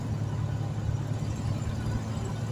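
A 1981 Valiant Volare with new tires, a redone radiator and a new fan belt cruises on the highway, its steady low engine drone and road rumble continuous and close, with no talk.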